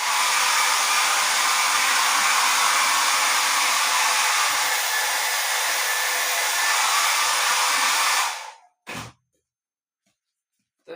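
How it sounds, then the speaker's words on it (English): A blow dryer roars steadily and loudly for about eight seconds, then cuts off, followed by a brief thump and silence. "I will do a blow dryer here."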